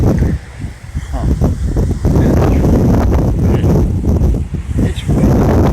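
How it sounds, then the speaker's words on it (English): Strong wind gusting at an outdoor motel pool in the northern White Mountains, with loud buffeting roar and rustling that swells and holds steady across the clip; no voices are heard. "I don't know, it's so windy."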